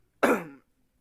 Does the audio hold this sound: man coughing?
yes